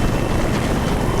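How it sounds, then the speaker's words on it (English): Mysteron attack helicopters flying, a loud continuous rotor roar with a dense rumbling texture that holds steady throughout. "Mystron attack helicopters."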